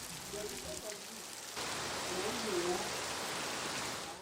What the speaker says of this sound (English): nature finally had its way as it begins to rain in torrents